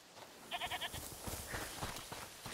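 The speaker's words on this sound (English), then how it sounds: "Is that the goat you talked about?" A goat bleats in the video game A Plague Tale Requiem with a few quavering cries over a low ambient background, fairly faint and heard alone without talk.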